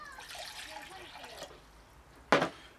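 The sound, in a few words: cold water poured for Trangia stove test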